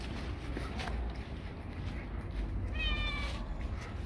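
A house cat gives a single short meow partway through, heard fairly close against low background rumble and household noise, with no talking over it.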